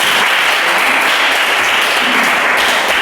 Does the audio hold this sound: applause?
yes